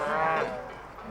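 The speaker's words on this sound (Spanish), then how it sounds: "ahora las vacas ya van subiendo bien, poco a poco pero bien" A single drawn-out call from livestock in a herd of about a thousand cattle climbing a Pyrenees mountain trail during seasonal transhumance, close and fairly loud, fading over about a second.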